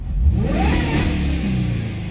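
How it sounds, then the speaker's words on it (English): A Jaguar's supercharged engine revs up against its rev limiter, its pitch climbing then holding steady in a loud, continuous roar. "let's go ahead and rev it up"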